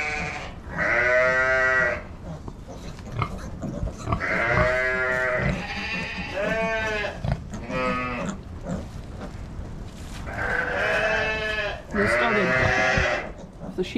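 Loud, wavering bleats from sheep and goats, several calls in turn close by, some overlapping, with lower grunting and rustling between them.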